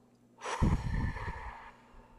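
A person breathes out forcefully in one long, close exhale, starting sharply and fading over about a second and a half, with quiet surroundings and no talk.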